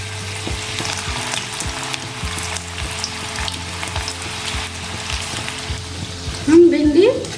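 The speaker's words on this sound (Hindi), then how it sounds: "तेल मेरे बहुत अच्छे से गर्म है, तो हम बाकी का भिंडी भी ऐड कर देंगे" Sliced okra (bhindi) frying in well-heated oil for a crispy bhindi fry, a steady close sizzle with a run of regular rattling ticks and a brief louder burst near the end.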